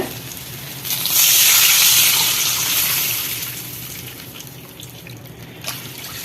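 Water pours steadily into a pot of semolina for a couple of seconds, a broad hissing gush that swells and then tapers off, with kitchen clatter at the end.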